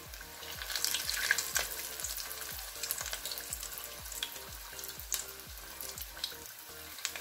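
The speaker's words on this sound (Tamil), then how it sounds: "ஒரு மூணு மூணாக பொரிச்சு எடுத்துக்கலாம்." Vegetable spring rolls deep-fry in hot oil with a steady, dense crackle and bubbling hiss, punctuated by regular low thumps and scraping clinks throughout, close and continuous with no talking.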